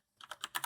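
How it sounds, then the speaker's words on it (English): Rapid keystrokes on a computer keyboard, about five or six close, crisp clicks in a quick burst after a brief silence, entering a command to open the nano text editor. "So we begin by typing in nano"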